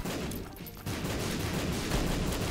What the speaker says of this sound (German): Oh Gott, Bomben. Aua, die explodieren.